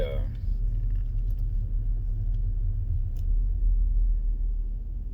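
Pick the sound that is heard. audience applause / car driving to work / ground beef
car driving to work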